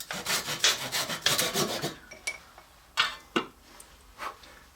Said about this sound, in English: we'll just sand that off and soften up that hard edge